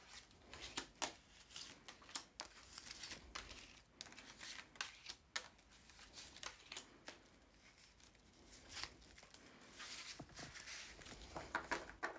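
Tarot cards shuffled and laid out on a table, a quiet run of soft papery riffles and flicks in uneven bursts, close and faint with no talking.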